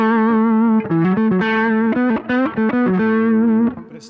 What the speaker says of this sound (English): So at this setting, the overdrive becomes more prominent. You're kind of hearing it. You're starting to hear some of the color. And it's kind of giving you this grit.